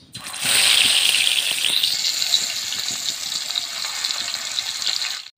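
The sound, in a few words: fish frying in hot oil in a wok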